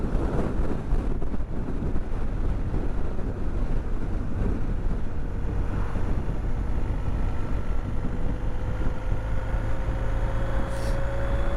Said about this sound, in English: Been some horrific strong winds up there.